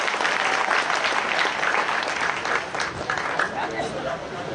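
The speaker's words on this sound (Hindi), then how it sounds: "जोरदार ताली बजाइए।" A crowd at a BJP political gathering bursts into loud, sustained applause for a local municipal councillor, dense clapping mixed with cheering and chatter throughout.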